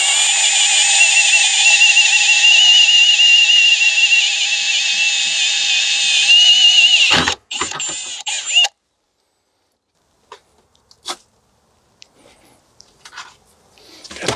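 A power drill boring a hole for a rivet nut in a barn door whines steadily at high pitch for about seven seconds, then stops abruptly, followed by a few brief clicks and knocks.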